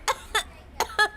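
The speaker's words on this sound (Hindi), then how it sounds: "ऐसे ही खांस खांस के मर जा" Four short, sharp coughing bursts in two pairs come from a man in a Hindi-dubbed South Indian film scene, fairly close and clear with no talk over them.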